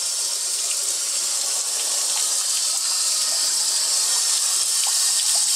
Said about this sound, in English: Now I'm just preheating the sink with some water.